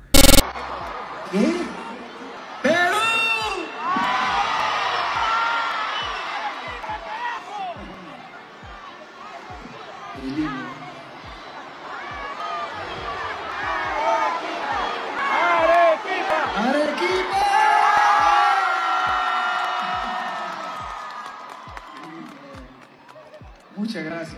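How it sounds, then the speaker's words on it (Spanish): A large concert crowd in Arequipa, Peru, at a show, shouts and chants the city's name in a loud, continuous roar over a steady thumping beat, with voices swelling and cheering throughout. "algunos especiales comenzaron a gritar Arequipa, Arequipa, Arequipa como si vivieran en otro país"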